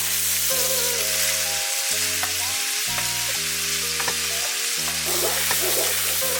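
Ground meat, probably sausage, browning in a frying pan for a kale and potato soup, with a steady loud sizzle broken by the clatter of a utensil pressing and scraping the meat.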